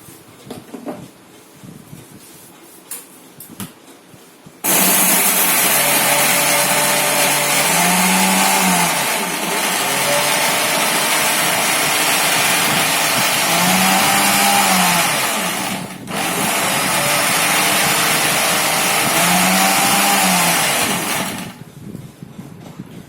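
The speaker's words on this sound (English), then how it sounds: "Now I'm just breaking all of the biscuits in this mixer bowl. Then close the lid and let's blend it." Electric mixer blending broken bourbon biscuits into powder, starting abruptly and running as a loud, steady motor whir for about seventeen seconds with a brief dip midway, then stopping.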